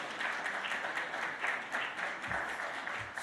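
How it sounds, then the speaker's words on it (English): An audience claps after a panel session at a career and entrepreneurship summit in the UK, a soft, steady patter of applause heard from a distance that thins toward the end. "Yeah, you can clap. You can clap."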